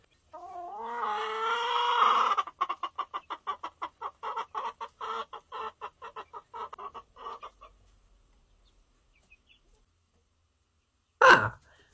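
A hen in a coop clucks loudly and close: a drawn-out squawk, then a rapid, evenly spaced run of clucks that fades out, followed by a single sharp burst after a pause.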